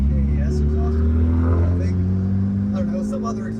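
Low, steady burble of a Mitsubishi Evo through a Tomei exhaust, idling or cruising with slight pitch shifts, sitting beneath people talking nearby.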